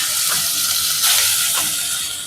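A steady sizzle of pongal made with rice and wheat frying in a hot pan, with soft stirring scrapes and hissing bursts, close and moderately loud.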